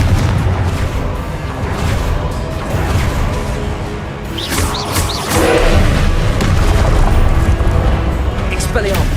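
Confringo spell blasts from Hogwarts Legacy boom and crackle in a loud, dense burst of combat noise, with speech mixed in.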